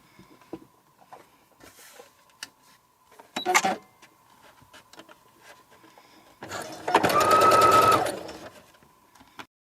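A sewing machine runs in two bursts, a short one and a longer steady run near the end, stitching close beside an existing seam of fabric while making a custom dress form, with quiet handling sounds between.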